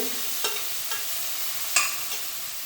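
Mint leaves sautéed briefly in a pot for chicken biryani, heard as a close, steady frying sizzle with a few light stirring scrapes at irregular intervals and no voices.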